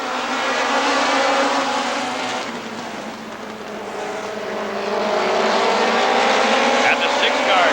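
Race cars roar at Rockford Speedway just after the green flag, a dense, loud wall of engine noise with rising and falling pitch as the pack passes, overlaid by an announcer's voice.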